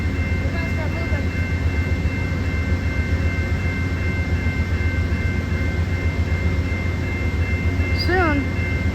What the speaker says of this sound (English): you can hear the Amtrak warming up